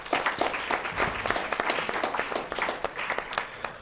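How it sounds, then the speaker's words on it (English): At a youth forum on teen dating violence, an audience gives council members a round of applause, a crisp, fairly light patter of individual claps that stays steady, then thins and turns more scattered toward the end. "So we can give them a round of applause as well."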